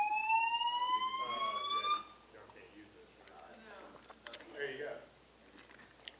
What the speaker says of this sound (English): An alarm has been activated in the building.